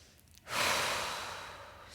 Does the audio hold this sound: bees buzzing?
no